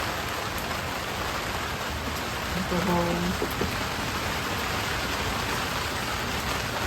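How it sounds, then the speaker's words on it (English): Steady rain falling outside, a dense even hiss throughout with a person speaking briefly over it near the middle. "It's raining out there."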